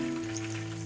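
A whole chicken deep-fries in a pot of hot oil, a brief, dense, even bubbling sizzle heard close up with no voices.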